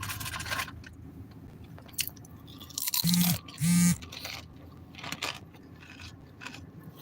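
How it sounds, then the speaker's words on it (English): Crunchy food is chewed up close in ASMR style, with loud crisp crunches in two strong bursts among quieter chewing and mouth sounds. "The crunching is crazy."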